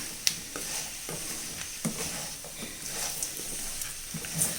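A spoon stirs fish pickle masala with fenugreek and asafoetida powder in a pan, steady sizzling hiss under repeated soft scraping strokes, close, continuous with no talking.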